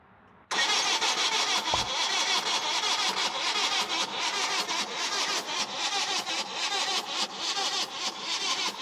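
A car engine with a mechanical fault is cranked by its starter. It churns loudly and continuously for about eight seconds with a steady pulsing rhythm, heard close by after a quiet moment.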